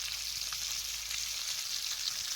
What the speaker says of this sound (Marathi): असं जरा जराच मासं घालून तव्यात तळून घ्यायचं.